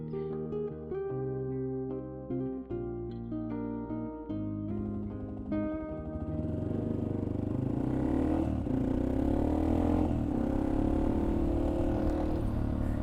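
A Yamaha XT250 motorcycle riding, engine note rising and falling through gear changes before settling into a steady loud rumble with wind, no voices.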